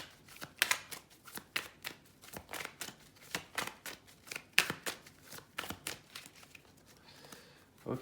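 Tarot cards are handled and laid down close by, giving a quiet run of crisp papery flicks, slaps and shuffles in an irregular rhythm with no talking.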